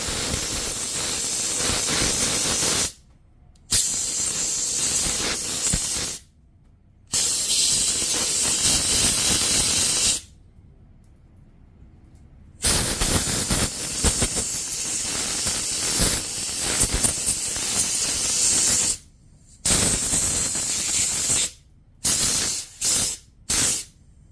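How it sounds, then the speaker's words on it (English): Carburetor cleaner sprayed in long, loud hissing bursts into a clogged 25cc two-cycle string trimmer carburetor, with several sustained blasts separated by brief pauses and a flurry of short spurts at the end. "so we're gonna go ahead and spray the whole thing out"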